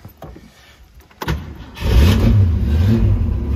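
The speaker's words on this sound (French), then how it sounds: "au volant de cette Mustang que nous allons démarrer pour votre plus grand plaisir" A 1966 Ford Mustang cabriolet cranks briefly, then its engine catches and settles into a loud, throaty idle with light revving, recorded up close.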